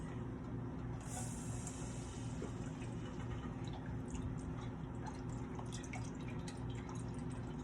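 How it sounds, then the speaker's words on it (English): Canned broth for black bean and lentil soup pours into a heating pan, a steady close splashing stream running throughout with faint dripping, no voices. "I'm going to add in the broth."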